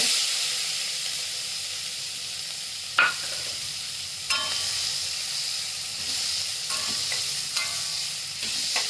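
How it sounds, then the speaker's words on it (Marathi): Two large chopped onions frying in butter and oil for a chicken masala pav, a steady close sizzle with a few clinks and stirs of a utensil against the pan. "आता दोन कांदे मोठे चिरून घेतले ते टाकते"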